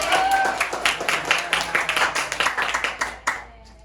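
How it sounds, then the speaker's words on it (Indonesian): A small classroom group claps for a student, a brisk patter of individual hand claps close by that thins out and stops after a few seconds. "Boleh beri tepuk tangannya ke Bene."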